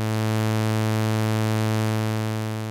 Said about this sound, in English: a saw wave,